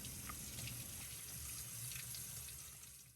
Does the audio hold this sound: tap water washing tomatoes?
yes